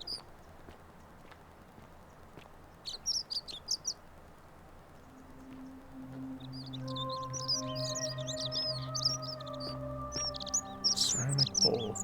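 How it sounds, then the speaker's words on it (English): Birds chirp in bursts of high tweets in the game The Forgotten City, growing busier over a soft ambient drone as sustained musical tones swell underneath. "Birds are going crazy over here."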